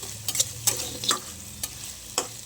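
Finely chopped potatoes, beans and carrots fry in oil in a pan, with a soft background sizzle broken by several sharp spatula scrapes and clacks at an uneven rhythm.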